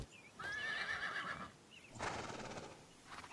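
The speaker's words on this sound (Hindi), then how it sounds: "ये घोड़े इन्हीं गुंडों के लगते हैं।" Horses neighing in a fantasy anime scene set near a bandits' camp: a loud, drawn-out whinny, a short pause, then a second rougher neigh and a fainter third call near the end.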